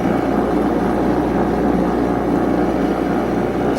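A bench grinder removes rust from an old spade bit with a constant, loud motor hum and a whirring drone that holds steady throughout, close by and without talk.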